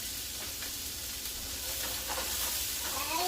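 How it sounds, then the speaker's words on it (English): Onions and celery sweat in a pot of oil for chicken noodle soup, a steady close sizzle and hiss with faint stirring, no voices. "then we're going to go in with the onions and the celery. We're just going to kind of sweat those out for a few minutes"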